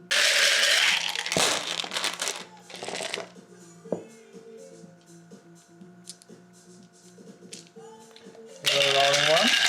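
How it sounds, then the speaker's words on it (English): Dice rattle in a loud dice cup during a Kings of War tabletop wargame, with harsh clattering bursts at the start and again at the end and quieter ticks between them. "It's a really loud dice cup."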